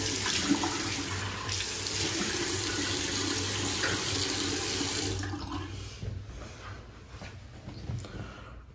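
Water from a bathroom sink tap runs steadily while someone rinses their face during a wet shave, a continuous splashing hiss that stops about two-thirds of the way through, followed by quieter dripping and handling noises.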